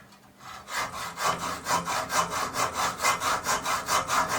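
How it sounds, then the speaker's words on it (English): Hacksaw cutting through the outer metal tube of an old trailing arm bush on an Alfa Romeo 105 Series, close and loud, with steady back-and-forth strokes in an even rhythm after a brief quiet start. "And all you need is a hacksaw."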